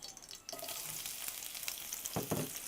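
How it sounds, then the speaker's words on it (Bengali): Chopped onion and garlic fry in hot cooking oil for masoor dal tadka, a steady close sizzle with brief stirring scrapes and a couple of louder bursts toward the end. "পেঁয়াজ আর রসুন কুচিটাকে কিছুক্ষণ ভেজে নিব।"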